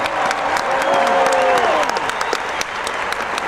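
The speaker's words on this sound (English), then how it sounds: "please give a giant round of applause to our Gamma Phi Service Award winners for 2016, Thomas and Monique." Steady, full audience applause for Gamma Phi Service Award winners at a 2016 ceremony, a dense wash of clapping from a crowd with faint cheering, fairly loud and even throughout.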